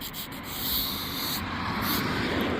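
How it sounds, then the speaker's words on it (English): Car trim pieces from a rusty Vauxhall Corsa being scuffed with 320 grit sandpaper ahead of painting, a steady close abrasive rasping that runs continuously without pause. "I'm just scuffing these up ready for paint"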